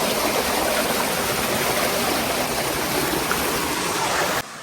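Damau Dhara Waterfall in Korba, Chhattisgarh pours with a loud, close, continuous rushing roar of falling water that stays steady, then cuts off abruptly at the very end, with no talking.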